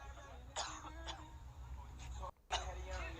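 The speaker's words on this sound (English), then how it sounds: "He's coughing too. He got hit too." A man coughs and clears his throat several times in rough bursts, with voices and background noise around him.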